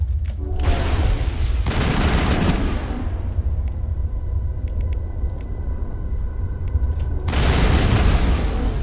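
Heavy rifle fire and booming combat noise from the video game Mass Effect, loud and sustained, with dense rumbling bursts at the start and again near the end.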